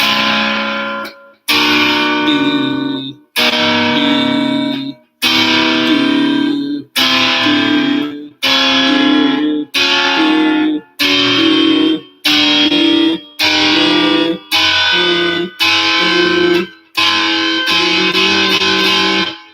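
An electric guitar run through distortion and effects strums a minor sixth chord over and over, about a dozen loud, sustained hits each cut off sharply, separated by short silences.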